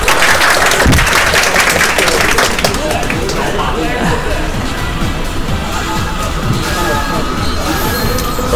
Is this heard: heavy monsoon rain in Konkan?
no